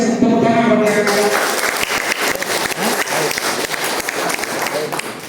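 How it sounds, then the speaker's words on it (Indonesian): An audience claps loudly and steadily at the closing ceremony of a scout leader training course. A voice is heard briefly at the start, then dense applause continues alone for several seconds. "tepuk tangan pada kakak."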